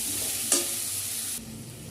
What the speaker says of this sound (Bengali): এবার আদা লঙ্কা বাটাটা দিয়ে দিলাম, দিয়ে ভালো করে নেড়ে চেড়ে মিশিয়ে নেব